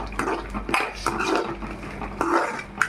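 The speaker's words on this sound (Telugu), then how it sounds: "పల్లీలు పచ్చిమిర్చి అయితే ఇలా తిప్పుకుంటామండి." Peanuts and green chillies stirred in a pan, a spoon scraping and clinking against the metal in short irregular strokes, close and fairly loud.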